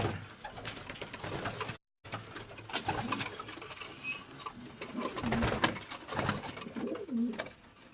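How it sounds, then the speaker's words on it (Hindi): Racing pigeons in a loft in Kili Sheikhan, Quetta, coo in soft, repeated low throaty calls, close by, with wing flutters and shuffling around them and a brief dropout partway through. "ये जा रहे कबूतर, ये रेस के लिए जा रहे हैं"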